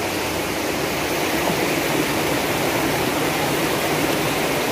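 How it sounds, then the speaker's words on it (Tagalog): A river near farm fields flows in a steady, dense rush of water, broad and continuous with no break or voices. "Ayan mga higala oh, yung ilog."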